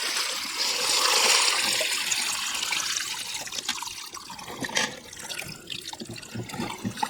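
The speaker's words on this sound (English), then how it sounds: "I'll just empty out the water or tip the water out." Water pours out of a bucket in a rushing splash, then thins into trickles and dribbles nearby, beside a river while gold panning.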